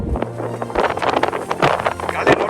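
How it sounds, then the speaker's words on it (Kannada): Strong gusts of wind sweep across sand dunes on Kangaroo Island, buffeting the microphone in loud, uneven rushes with a low rumble that swells and fades for a few seconds; no speech. "ಗಾಳಿ ಕೂಡ ಹಂಗೆ ಸಡನ್ನಾಗಿ ಜೋರಾಗಿ ಬರುತ್ತೆ"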